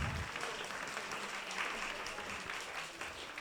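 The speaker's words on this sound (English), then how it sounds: "Thanks for clapping" Audience at the BAAITS 25th anniversary celebration applauds steadily, a dense wash of clapping held at an even level for a few seconds with no pauses.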